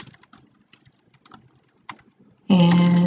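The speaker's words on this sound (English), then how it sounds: "Now here you can type in your title." Light, quick keystrokes tap out on a computer keyboard in an uneven close rhythm, ending in a sudden loud steady tone.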